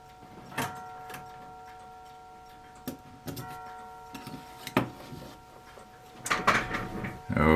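Several mantle clocks ticking indoors in steady, quiet rhythm, with occasional louder knocks and rustling handling sounds over a faint background hum.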